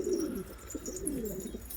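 A Karagümüş pigeon coos in a low, rolling rhythm, close by and steady, with no talking.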